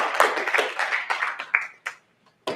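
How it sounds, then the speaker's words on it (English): A small audience at a free speech event claps, a short close round of scattered hand claps that thins into a few last separate claps and then stops. "please give a round of applause to Heather Lauer."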